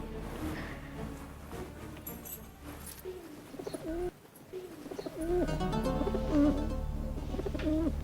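A pigeon coos in a series of soft, throaty, rolling calls with short pauses between them, close by, over a low background hum.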